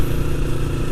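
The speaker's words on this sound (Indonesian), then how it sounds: "gue suka banget sama suara mesin CBR ini" Honda CBR motorcycle engine idling with a raspy, slightly throaty rumble, a steady low pulsing drone held close and loud throughout with no talk.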